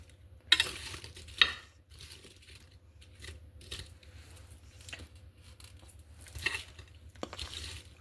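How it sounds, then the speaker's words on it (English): Candy coating is stirred in a pan, giving soft scraping and light clinks that come in a few louder bursts over a quiet, faint sizzling background, no one talking. "I'm going to give that another good stir."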